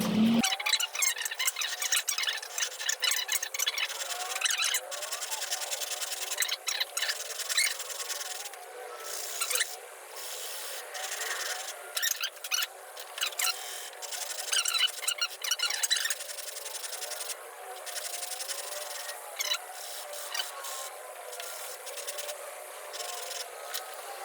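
A steel chisel is rubbed back and forth on an old oil stone, giving soft rasping strokes in an irregular rhythm, close and fairly quiet, with no talking.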